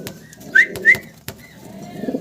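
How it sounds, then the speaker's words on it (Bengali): Pet pigeons in a coop, including Danish and Nuran lark breeds, give two clear rising whistle-like coos close by, followed by softer murmuring coos and a few light clicks, with no talk. "এটা সিঙ্গেল সিঙ্গেল কবুতর আমরা দেখতে পারতেছি"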